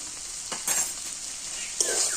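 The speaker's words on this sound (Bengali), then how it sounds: "আদা লবণ দিয়ে আবার একটুখানি কষিয়ে নিচ্ছি" Potatoes fry with ginger paste and salt in a pan, a bright, close sizzle with a couple of brief scraping stirs.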